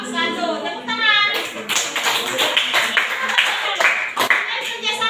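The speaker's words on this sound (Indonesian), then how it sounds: "Tepuk tangan." Classroom students clap after a group's quiz answers are read out, a lively burst of close, sharp handclaps with voices chattering over and around it.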